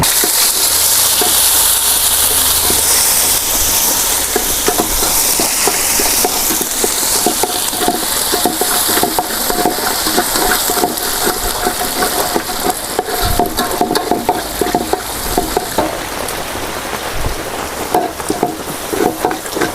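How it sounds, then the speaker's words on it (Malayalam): A steady, loud sizzle of ginger, garlic and green chilli frying in hot oil runs throughout, with occasional stirring and crackling, and no voices. "എണ്ണ ചൂടായിട്ടോ ഇഞ്ചി വെളുത്തുള്ളി പച്ചമുളക് ഇട്ട് കൊടുക്കട്ടെ"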